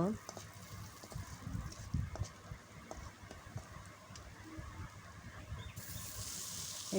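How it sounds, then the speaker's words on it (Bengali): Onion and garlic sizzle in hot oil in a pan before drumstick leaves are added, a steady frying hiss with soft stirring scrapes throughout. "ভেজে নিব ভালো মতন ভাজা হয়ে গেলে আমি এখানে শাকগুলোকে ঢেলে দিব"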